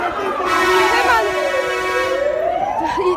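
Fire engine siren wailing as it arrives at the rubble of buildings collapsed in a magnitude 6.8 earthquake in Elazığ, rising and falling loudly and close over street noise.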